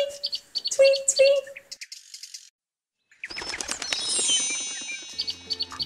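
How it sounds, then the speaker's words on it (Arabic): Birds chirp and tweet up close: a few sharp, bright calls at first, then a short pause, then a dense, busy stretch of overlapping high twittering that lasts to the end. "العصفور بيعمل هذا الصوت"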